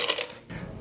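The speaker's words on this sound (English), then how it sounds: "I'm gonna start by adding ice into a shaker." Ice cubes dropped into a cocktail shaker: a brief close clatter of cubes hitting metal, a dense rattling burst that fades, then a second softer clink.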